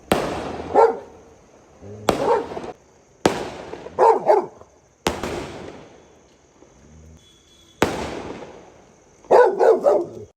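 Loud firecracker bangs burst several times at irregular intervals, some in quick clusters, with a dog barking in between.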